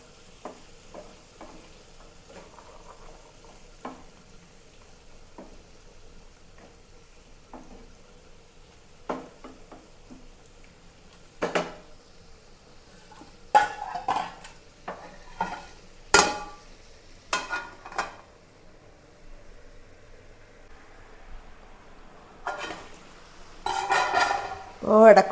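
Long beans and carrot cook on a low flame in a pan. A quiet background is broken by intermittent spatula clinks and scrapes and short bursts of stirring, growing busier toward the end.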